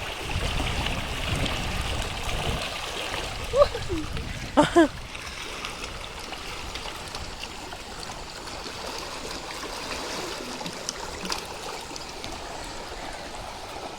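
Strong river current rushes steadily beside a small fishing boat during the monsoon backwaters, a continuous broadband flow with a few brief splashes, while a person laughs briefly.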